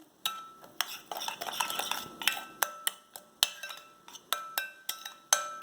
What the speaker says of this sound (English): I am using a spoon to mix these in